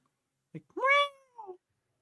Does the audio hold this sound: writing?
no